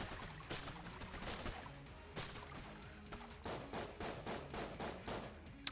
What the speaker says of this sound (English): Might as well shoot open the chest, see if we get anything nice.